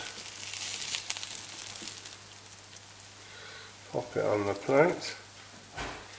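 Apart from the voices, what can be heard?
spiralized casserole sizzling on the plate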